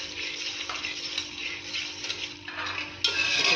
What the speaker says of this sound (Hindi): आप इसको चम्मच चलाएं